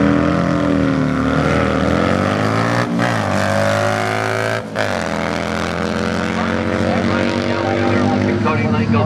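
A drag racing motorcycle at Barona Drag Strip accelerates hard down the strip, a loud, sustained engine roar whose pitch climbs steadily through the gears with a couple of brief shift dips.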